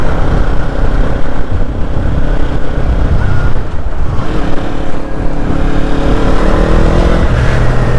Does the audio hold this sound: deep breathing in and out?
no